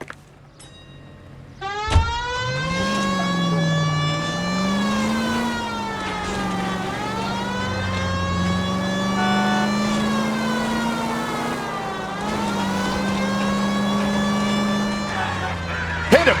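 Police car siren wailing continuously while driving in L.A. Noire, a rising and falling tone over steady engine rumble, loud and close throughout.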